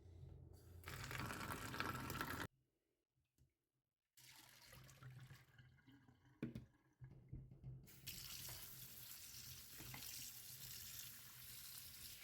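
Water gushes from a kitchen tap in steady runs while parrot seed food is washed, with a brief pause and a clatter between streams, close and clear.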